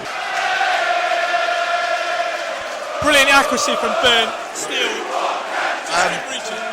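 A football crowd roars and chants after a goal in Newport County against Blackburn Rovers, a dense steady wall of noise with a commentator talking over it.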